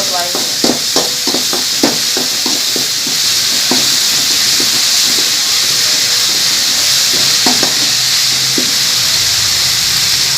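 Ginger garlic paste sautéing in a pan for a crab gravy, a steady bright sizzle and hiss with scattered scraping stirs, close and loud, while a voice talks intermittently.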